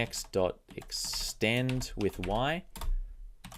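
Quick, irregular clicks of typing on a computer keyboard during a Python coding tutorial, heard under a voice speaking at the same time.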